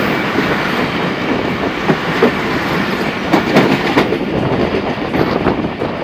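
A passenger express train passes on the down track, a loud, close, continuous roar of wheels on rail with steady clickety-clack beats running through the whole passage.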